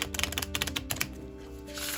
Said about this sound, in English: that is a joy to shuffle.